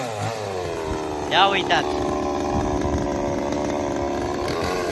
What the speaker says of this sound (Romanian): Uitați, prieteni, avem un drujbist aici!